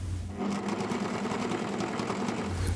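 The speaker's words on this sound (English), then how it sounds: "I have sewn this seam" Sewing machine running steadily as it stitches a seam on a buttoned dress, a fast continuous mechanical whir that starts abruptly and stops near the end, close and unaccompanied by talk.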